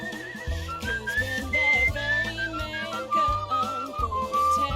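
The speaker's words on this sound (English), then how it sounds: "if I match the notes while whistling, then I walk faster?" Melodic whistling matches notes in the video game Where the Water Tastes Like Wine, a steady tune with sliding pitches carried over a soft, rhythmic musical backing.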